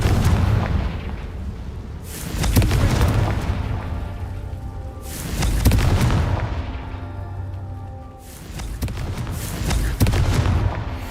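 Blasting spell explosions from the Confringo charm in Hogwarts Legacy boom out in three or four heavy, rumbling blasts, each loud and close with a long roaring decay and no voices over them.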